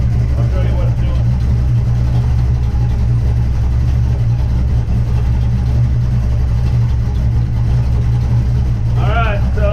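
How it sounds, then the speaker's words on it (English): Loud, steady low engine rumble of a 1983 GMC C10 pickup, stuck at a constant high idle after revving, with a voice speaking briefly over it near the start and end. "once I rev this, it's just gonna rev up and stay revved up"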